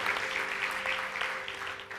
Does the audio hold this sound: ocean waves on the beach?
no